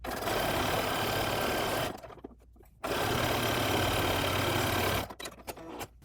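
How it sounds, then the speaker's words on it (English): A sewing machine stitches the side seams of a dress in two steady, close runs of fast mechanical whirring with a brief pause between them. "So we're going to sew down those two side seams."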